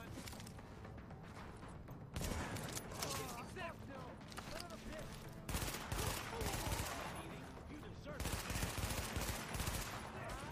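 Sniper shots and automatic gunfire in the video game The Division, dense loud bursts and sharp cracks in several volleys, with a player talking over them.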